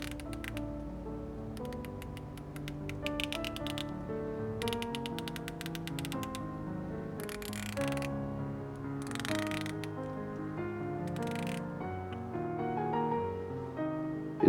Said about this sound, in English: It's a unidirectional bezel, so you can't turn it the other way.